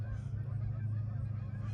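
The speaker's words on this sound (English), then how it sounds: "There's a bunch of geese over the river." Geese honk faintly in the distance over a river, their calls riding on a steady low outdoor rumble for a short stretch.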